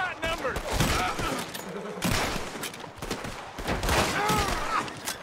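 Frequent gunfire ringing out during a train robbery shootout in Red Dead Redemption 2, with shots and clatter spread throughout while voices shout and talk over the fighting.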